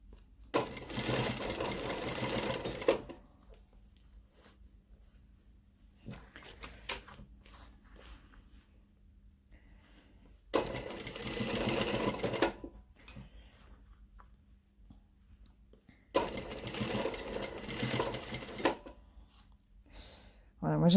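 A sewing machine stitches folded bias binding onto fabric in three loud, close bursts of rapid whirring, with quiet gaps between them where a voice speaks softly.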